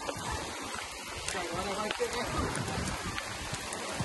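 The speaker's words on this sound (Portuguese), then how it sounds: "Mas agora tá boazinha a chuva." Steady rain falls outdoors during a downpour while someone works on a gate, a continuous close hiss that never lets up.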